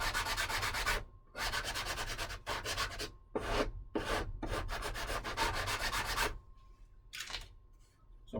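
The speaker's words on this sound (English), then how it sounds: "I gotta do some finish sanding in there." Hand sanding along the edge of an aircraft fuselage, a close, steady scratchy rubbing in long strokes with a few brief pauses, no talking.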